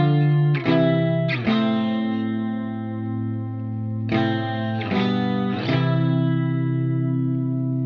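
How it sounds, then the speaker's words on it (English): An electric guitar with chorus and distortion effects strums major and minor third chord shapes with the third doubled an octave higher, loud, thick ringing chords struck in a few spaced attacks and left to sustain. "verses are built around simple major and minor third shapes like this. Along with the addition of the third note doubled an octave higher"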